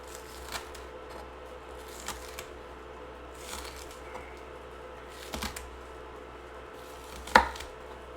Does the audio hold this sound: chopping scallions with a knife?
yes